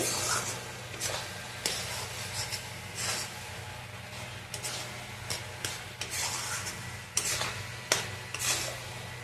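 Carrot halwa being stirred in a pan after ghee goes in, a steady scraping and clinking of spoon on metal with light sizzling throughout, close and fairly loud, with regular sharper scrapes.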